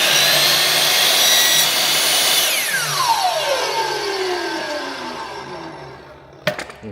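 A power saw cuts through PVC garage door trim, whining loudly at first and then winding down in pitch as the blade slows to a stop, followed by a couple of sharp clunks.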